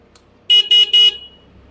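Hero Xpulse motorcycle horn tested during a repair: three short, loud, close honks in quick even succession, each lasting about a fifth of a second, with quiet before and after.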